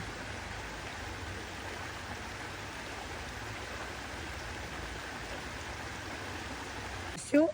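Steady rushing of a stream at Yaremche, a continuous even wash of flowing water with no breaks.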